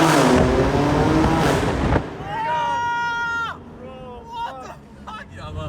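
A car in a GTA-style game accelerates through a tunnel, engine rising in pitch in loud revving sweeps with a booming, echoing wash early on and crowd-like voices and chatter mixed in.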